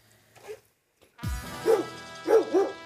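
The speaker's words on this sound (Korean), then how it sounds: "아, 짖지 마." A dog barks close by in a rural house, a few loud deep woofs in quick succession after a faint earlier sound, with no talk over them.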